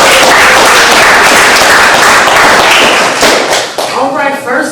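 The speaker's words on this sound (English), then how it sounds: "You guys start clapping right now" Audience at an open mic poetry night claps continuously to welcome the next performer, a dense loud patter of many hands that thins slightly near the end as voices start to rise.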